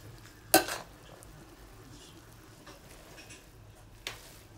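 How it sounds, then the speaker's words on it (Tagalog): Pansit noodles with cabbage stirred in a pan, two sharp utensil scrapes against the metal a few seconds apart over a low, steady background hiss. "Halo lang, mamaya nang luto na to."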